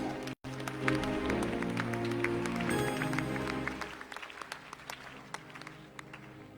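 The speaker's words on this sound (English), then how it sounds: "Let us clap hands for Jesus." A church congregation claps hands for Jesus during a local church day service, a dense rhythmic clapping with voices underneath that gradually thins out into scattered claps.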